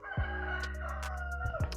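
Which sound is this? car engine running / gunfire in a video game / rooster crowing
rooster crowing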